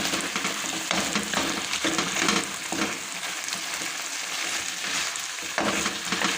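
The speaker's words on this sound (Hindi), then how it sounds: "अब मैं इसके अंदर घी डालूँगी।" Desi ghee sizzles with ground coriander and cumin in a karahi, a close, steady crackling hiss with brief surges as the spices are stirred, with no voices.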